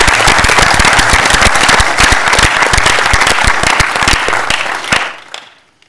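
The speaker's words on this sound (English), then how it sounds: "Can everybody here give them a round of applause?" Audience applause for Girl Scouts at a county commissioners meeting: loud, close, sharp hand claps from a room of people, brisk and dense, then thinning out and stopping near the end.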